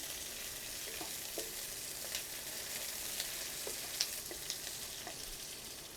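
Chopped onions and green chilies frying steadily in a pan for egg curry, a continuous close sizzle with faint stirring clicks, no voices.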